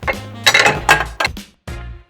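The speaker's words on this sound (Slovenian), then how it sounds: "pretresemo v eno drugo posodo" Cooked food is poured from one pot into another, giving several loud clanks and clinks of metal cookware in bursts, close by and with no talk.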